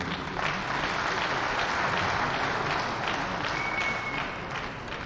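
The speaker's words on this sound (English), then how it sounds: "Let's give him another applause as he makes his way off the stage." Steady, dense applause fills a conference hall as a speaker leaves the stage at a Southeast development commission summit in Enugu, held at an even level throughout.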